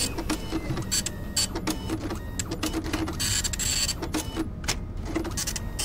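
A printer in the video game Freddy Fazbear's Pizzeria Simulator runs with a rapid, rhythmic series of mechanical clicks and whirring passes that repeat steadily for several seconds.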